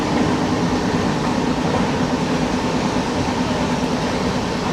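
A Chennai to Chengannur passenger train runs steadily along the tracks, giving a continuous rumbling interior roar with faint rhythmic rail noise and no talking.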